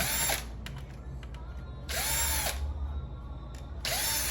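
A small electric screwdriver backs screws out of the cooler on an Avell Titanium 1511 laptop, three short whirring bursts spaced about 1.5 seconds apart, close and clear over a quiet background.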